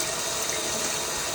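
Steady, loud rush of tap water pouring over and through a wicker basket being washed, continuous and close with no pauses.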